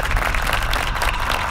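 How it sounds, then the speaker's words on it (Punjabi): A crowd welcoming a leader with loud, dense applause, many hands clapping steadily for a short burst with no break. "ਕਰੋ ਜੀ ਸਵਾਗਤ ਜੋਰਦਾਰ ਤਾੜੀਆਂ"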